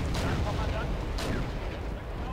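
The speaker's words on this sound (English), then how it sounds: "All of the shooting back and forth, we still haven't been able to get a hit." Continuous heavy gunfire and artillery booms rumble from a battle in the war strategy game Wargame: European Escalation, with two sharper cracks standing out over a dense, loud roar.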